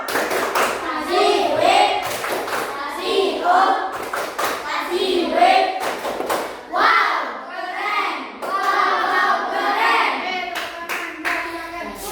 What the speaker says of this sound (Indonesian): Oke, tepuk tangan dulu. Tepuk wow. Ayo, tepuk wow.